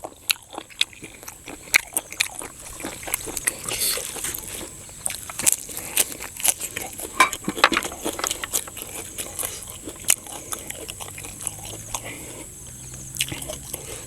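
Close, crunchy chewing of fresh shellfish with spicy fermented-fish dip, irregular crisp bites and smacking mouth sounds over a quiet evening background with occasional soft murmurs.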